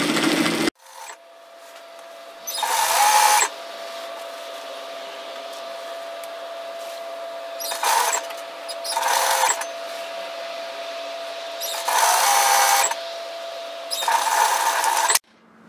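A domestic sewing machine stitches a seam on a Briar robe in several short separate bursts, each a second or so long, with quiet pauses and a faint steady hum between them.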